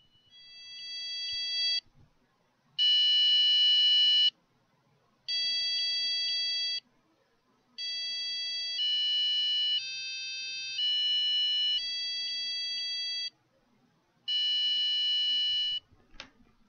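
A programmed buzzer on a small educational robot, heard with a mic held near its speaker, plays a series of piercing electronic beeps in repeated blocks of roughly one to two seconds with short gaps, shifting pitch between phrases, loud and close.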